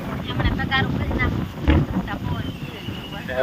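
Gusty storm wind roars across the microphone over open water in a village, with a louder blast midway and faint voices underneath.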